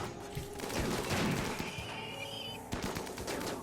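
Bursts of gunfire in the colony game Rimworld crackle in rapid volleys, a steady fusillade of overlapping shots at moderate loudness with no speech.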